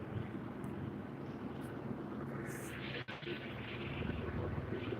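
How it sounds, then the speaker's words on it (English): An LAPD police helicopter flies overhead above a downtown Los Angeles bank tower during a bomb scare, a steady deep rotor drone mixed with wind rumble, continuous and moderately loud. "LAPD helicopter."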